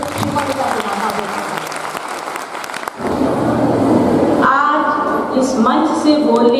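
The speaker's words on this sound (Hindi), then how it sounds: "कृपया तालियों से एक बार फिर शिपालिका सिन्हा का" Audience applause at a 2022 literary award ceremony in India, a dense spread of clapping under an announcer's voice, then swelling louder for the second half.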